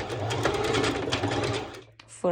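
Sewing machine stitching through fabric for a dress, a steady, loud continuous whir that runs nearly the whole time before briefly dropping and restarting at the end.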